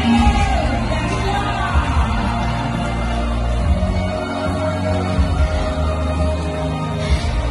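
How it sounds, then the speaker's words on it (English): A crowd at a rainforest show in Singapore Zoo screams and yells together in a loud, sustained roar that swells and dips for several seconds. "It's time for us to scream."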